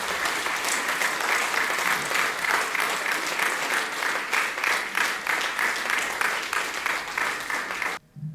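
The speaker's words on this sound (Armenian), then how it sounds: "եկեք մեկ անգամ եւս բարձր ծափահարենք մեր երեխաներին" Steady, dense applause from a concert audience at a children's school performance, a sustained wash of many hands clapping close and loud for about eight seconds before stopping abruptly.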